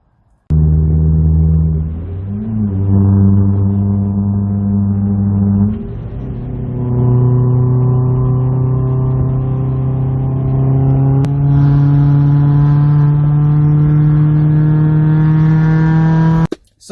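A car's engine revs up and holds steady, loud and close from inside the cabin during a drive, with the pitch climbing in stages and a brief drop before a final sustained high note.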